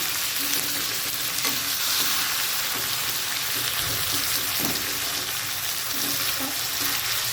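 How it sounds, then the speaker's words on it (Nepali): Tomatoes cooking in a pan for a Nepali-style chicken curry, with a continuous close, dense sizzle and light stirring scrapes throughout, and no talking. "अब यसलाई एकछिन टमाटरलाई पाक्न दिनु पऱ्यो।"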